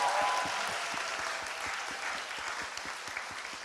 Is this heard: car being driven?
no